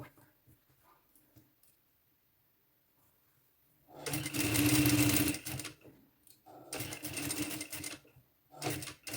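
A sewing machine stitches fabric for a midi dress, running in two rapid mechanical bursts of several seconds each, close and loud, after a quiet stretch with faint handling noises.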